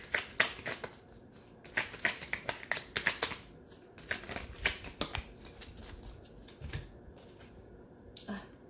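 Tarot cards being shuffled and drawn from a deck: close, crisp bursts of riffling and flicking in an uneven run with short pauses, fairly quiet overall.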